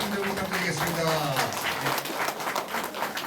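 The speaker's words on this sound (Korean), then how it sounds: "큰 박수 한번 더 부탁드리겠습니다." Lecture audience applauding at the end of a talk, a dense steady patter of clapping with a voice speaking over it.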